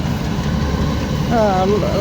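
A farm tractor engine runs steadily in a rice field, a constant low mechanical drone throughout, with someone talking over it.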